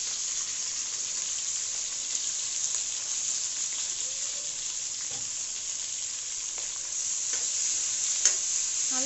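Onions with curry leaves and green chillies frying in oil in a pan for crab kulambu, a steady, dense sizzle holding close and even throughout with faint stirring clicks and no talk.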